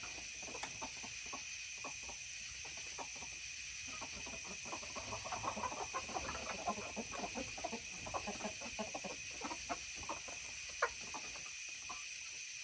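A coop of olive egger and Easter egger hens with a rooster gives soft, irregular clucks and murmurs, some nearer and some farther, over a constant background hiss and with no talking.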